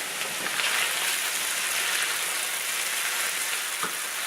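Homemade enchilada roja sauce simmers in a pot, giving a continuous bubbling, sizzling hiss with faint scraping from stirring underneath and one small knock near the end.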